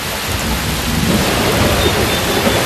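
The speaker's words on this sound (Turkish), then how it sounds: "Birazdan çok şiddetli yağmur yağacak." A thunderstorm with heavy rain in an outdoor setting, steady and close, with a dense wash of rainfall and low thunder rumbling underneath throughout, no voices.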